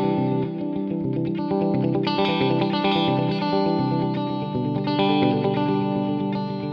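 Clean electric guitar through a Diezel Herbert amp, with delay and reverb added from an aux loop, rings out in sustained chords and notes with echoing repeats and no talking.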